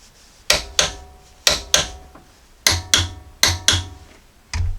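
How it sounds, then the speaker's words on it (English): A torque wrench tightens sway bar link nuts to 66 foot-pounds on a 2016-2021 Jeep Grand Cherokee, giving sharp metallic clicks that mostly come in close pairs, five sets spread evenly, loud and near with no talk. "Now we'll torque these nuts down to 66 foot-pounds."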